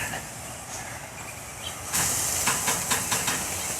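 Filet mignon steaks are laid on the hot side of a PK 360 charcoal grill and start a sharp, loud sizzle partway in, with faint hiss before it and a few crackling pops after the surge.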